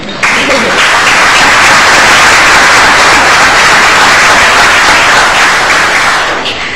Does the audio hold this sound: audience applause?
yes